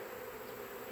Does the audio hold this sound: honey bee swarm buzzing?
yes